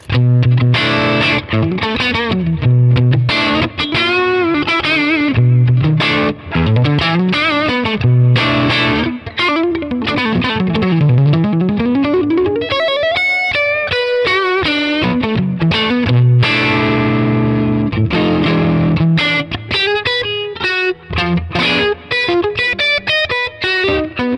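Electric guitar played through a Neural DSP Quad Cortex running a Fender amp model, with a distorted, effects-laden tone, sustained chords and fast melodic runs and bends, loud and continuous with no talk.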